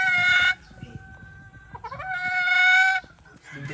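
Slim Benoist hens at a gamefarm give loud, close, drawn-out clucking calls in two long bursts, with quieter rustling and scratching between them and no talk.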